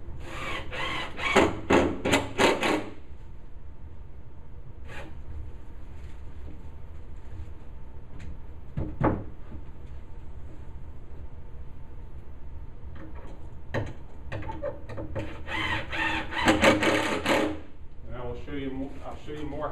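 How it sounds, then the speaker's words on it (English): Screws are driven into the corner joint of a wooden sauna cabin during assembly, short bursts of power-driver whirring separated by pauses, near and fairly loud, with someone talking in between. "So I'm putting these screws in the corner."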